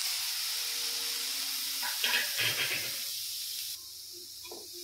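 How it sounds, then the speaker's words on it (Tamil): Carrots frying lightly in ghee in a hot pan give a steady soft hiss, with brief scraping and stirring bursts midway, then the sizzle carries on at a lower level. "இப்போ பேன் சூடவுடனே நம்ம வந்து கேரட்டு போட்டு இது லைட்டாக ஃப்ரை பண்ணலாம்"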